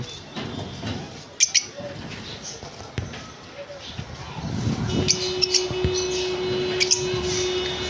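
Pet parrots, conures and lovebirds at a bird sale give scattered short chirps and calls over a steady background hum, with someone talking throughout.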